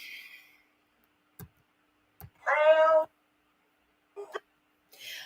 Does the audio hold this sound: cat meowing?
yes